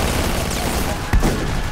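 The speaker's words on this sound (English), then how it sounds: "And I'm sitting here with a shotgun that I don't know how to use." A single shotgun blast in Battlefield 2142 cuts through a busy, constant wash of battle noise near the middle of the short clip.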